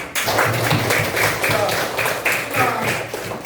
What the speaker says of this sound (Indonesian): Woi, tepuk tangan.